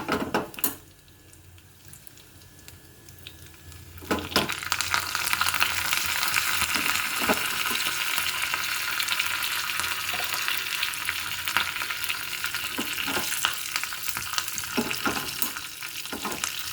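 Half a spoon each of mustard seeds and cumin frying in a pan: a quiet start, then a loud, steady sizzle with scattered pops and crackles that carries on to the end, with no talking.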